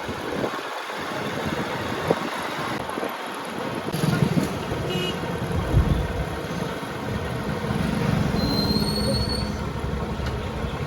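A train passing along a railway route near Bhagur, Nashik, a loud rolling rumble of wagons with squealing wheels and a thin high whine, building stronger toward the end.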